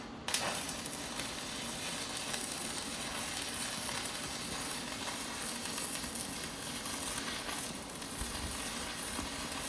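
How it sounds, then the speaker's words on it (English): Steel racking welded to the back wall of a junk shed, a continuous crackling, sizzling arc that runs steadily without a break. "So now I've welded that, I've just welded it there and twice up there"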